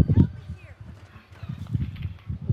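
A horse in the video game Red Dead Redemption 2 gives a few close hoof clops and low snorting noises, mostly masked by two people talking throughout.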